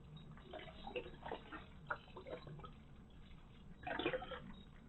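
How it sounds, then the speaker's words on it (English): Beef broth poured into a soup pot for homemade vegetable beef soup, a soft liquid splashing and trickling with a fuller gush near the end, moderately close and fairly quiet. "And I'll add some more beef broth."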